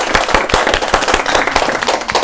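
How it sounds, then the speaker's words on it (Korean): A church congregation claps together in praise of God, a dense, loud burst of rapid overlapping applause filling the room without pause. "우리 하나님께 영광의 박수 돌려드리겠습니다"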